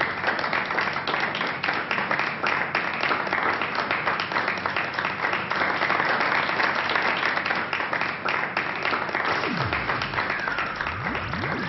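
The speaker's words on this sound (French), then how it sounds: "applaudissons le vainqueur" Continuous applause from a gathered audience cheering an election winner in a school setting, dense even clapping carrying on loudly throughout with a faint background murmur.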